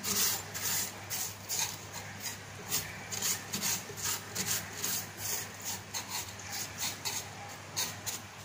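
Aquarium sand being smoothed and tidied by hand in a freshwater tank, a gritty scraping and rubbing texture in repeated strokes, close and moderately loud, with no talk.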